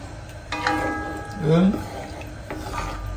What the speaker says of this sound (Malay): Selanjutnya kita masukkan udang kita yang telah digoreng tadi.